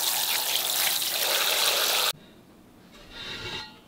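Food being rinsed under running water, a loud steady gush from the tap that stops abruptly partway, followed by quieter splashing and handling.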